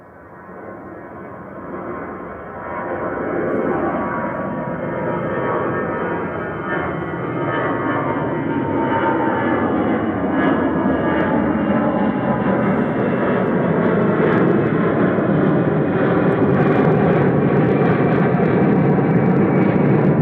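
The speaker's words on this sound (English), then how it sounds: "EasyJet heading off to the Isle of Man there, GZUL with flight 715 with D320 Classic." EasyJet Airbus A320 jet departing Manchester Airport for the Isle of Man, a loud sustained engine roar with a slowly shifting whine that rises after a quieter start and holds for about twenty seconds, no talking.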